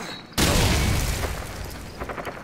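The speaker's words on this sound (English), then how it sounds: "Look out, grenade!" A grenade blast from the Call of Duty 4: Modern Warfare campaign bursts in suddenly after a moment of quiet, a loud booming explosion that decays into a rumbling, crackling tail with small pops near the end.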